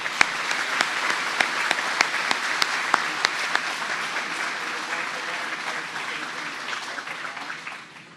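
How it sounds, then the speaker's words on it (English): A ceremony audience gives a steady round of applause, dense even clapping with a few sharper individual claps standing out, fading slightly toward the end. "Please join me in a round of applause"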